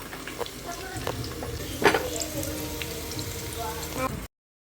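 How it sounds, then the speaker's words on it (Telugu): Onions and green chillies fry in hot oil with a dense, steady sizzle. Occasional crackles and pops sit close by, and one louder burst of spattering comes midway before the sound cuts off abruptly. "ఇప్పుడు నూనె కాలిపోయింది కదా, ఇవి అందులో వేసేద్దాం. ఉల్లిపాయలు పచ్చిమిర్చి"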